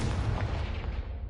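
A Confringo fire spell detonating in Hogwarts Legacy, heard as a continuous low rumbling boom with a dense, sustained roar that fades slightly toward the end, with no voices.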